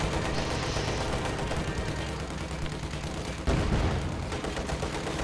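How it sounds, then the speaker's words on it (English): Rapid gunfire and explosions from the Company of Heroes battlefield, with supporting anti-tank fire against T-34 tanks, forming a dense, continuous roar of shots and a heavier blast partway through. "Anti-tank strafe coming in does clear out 3 of the 4 T-34s though, thanks to supporting anti-tank gunfire from Anonymouse's packs."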